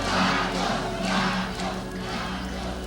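Thousands of loyalists cheer Ferdinand Marcos at the presidential palace in Manila, a broad, continuous crowd roar with rising and falling shouts, steady and fairly loud throughout.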